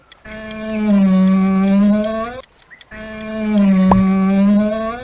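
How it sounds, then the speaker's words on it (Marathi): A camel gives two long, loud, droning moans, each held for about two seconds and separated by a short pause. "बरोबर हा उंट आहे"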